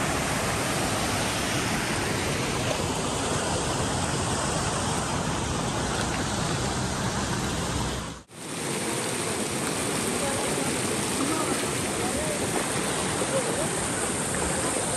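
Rushing mountain river stream in Khola Gau, a dense, loud, continuous wash of flowing water close by, with a brief dropout near the middle before the torrent resumes.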